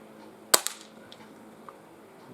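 A Sparrow spring air pistol fires once with a sharp, close crack and slight dieseling, followed by a faint echo or pellet strike and a couple of small ticks; no one speaks.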